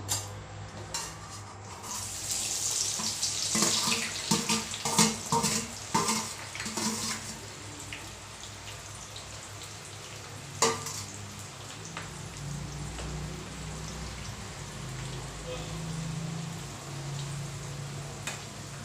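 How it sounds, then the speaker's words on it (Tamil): Sliced large onions frying in heated oil for a homemade hair oil, a steady close hiss and crackle lasting throughout, busier with spitting pops early on, with no talk. "எண்ணெய் சூடாகட்டும். வாங்க நம்ம இந்த வெங்காயத்தை போட்டுடலாம்."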